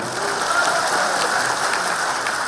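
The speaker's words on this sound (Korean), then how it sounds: "그 큰 박수 한번 보내주십시오" Audience applause in a large meeting hall at a seminar, a dense, steady patter of many hands clapping together throughout, with no voices.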